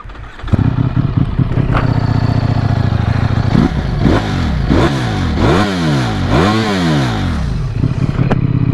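A Ducati Streetfighter V4 motorcycle engine idles with a deep, rough thrum, then revs up several times in quick rising and falling bursts, loud and close.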